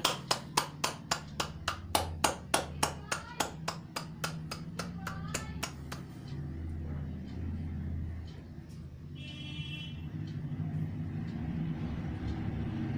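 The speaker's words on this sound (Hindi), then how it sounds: "तालियां" Steady rhythmic clapping from a crowd as Donald Trump and his wife step off their plane on arrival in India, about twenty claps over six seconds, then a low engine-like rumble with someone speaking over it.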